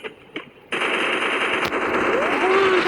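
Gunfire in the Free Fire mobile game, a sustained loud burst of rapid automatic shots after a couple of single cracks, with faint voices.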